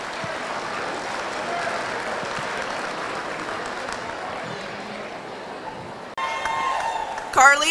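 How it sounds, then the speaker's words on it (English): Audience applauding at a youth fair market steer show, a steady wash of clapping from a crowd that swells near the end as a voice comes over the PA. "Let's give this class a nice round of applause."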